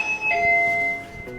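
A household doorbell sounds once with a clear two-tone chime, fairly near and ringing out briefly in an otherwise quiet room.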